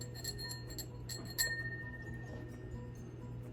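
Etched vintage drinking glass from a thrift store being handled, giving a few light clinks and chimes with a short ringing tone over a steady low background hum.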